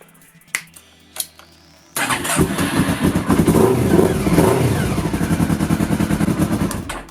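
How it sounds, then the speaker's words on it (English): A motorcycle fitted with a Scottoiler vSystem starts up after a couple of sharp clicks, then its engine runs loud and close in a steady, throbbing idle. "I'm going to do that by starting the motorcycle."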